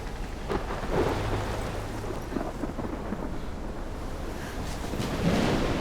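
A thunderstorm in Life is Strange Remastered brings a steady roar of heavy rain. Deep thunder rumbles swell under it from start to finish, loud and close, with no voices.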